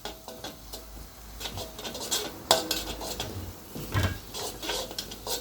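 Dried bird's eye chilies stir-fried briefly in a pan, with repeated metallic scrapes and clinks of a spatula against the pan over a low background hiss.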